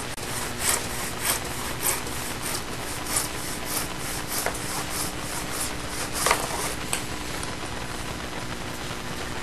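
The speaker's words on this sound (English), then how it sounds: "I'm using my miter box and my miter saw, just like before." A hand miter saw cuts a wooden splice piece held in a miter box clamped on a Workmate bench. Quiet, steady back-and-forth rasping strokes repeat for several seconds with no talk.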